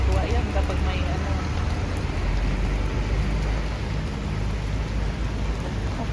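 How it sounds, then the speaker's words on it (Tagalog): Heavy rain pours steadily in Qatar, a dense, loud, continuous hiss and patter on surfaces with a low rumble underneath and no pauses throughout. "Pinapakita ko lang sa inyo ang ulan ng Qatar."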